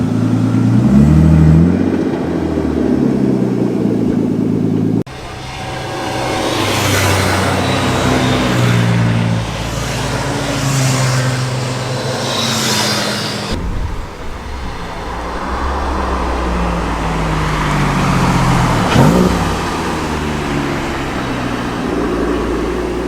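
A Hillman Imp classic car pulls away at a car meet, its engine note rising steadily and loudly amid passing traffic and other cars for the full length, with no speech over it.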